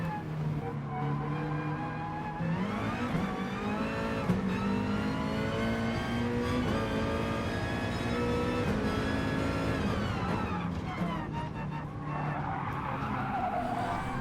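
A Group 2 race car heard from the in-car position as it fights its way through the field, its engine loud and droning steadily, rising through the revs and falling back with each gear change, with tire squeal in places.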